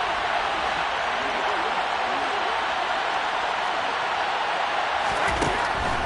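Constant roaring stadium crowd noise inside the Dome at a football game, a dense, loud, unbroken wall of sound under a commentator's voice.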